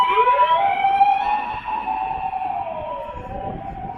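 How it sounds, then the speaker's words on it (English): An ambulance siren wails loud and steady as it passes close by, its pitch sliding down as it goes, with no voices over it. "There's a loud ambulance coming."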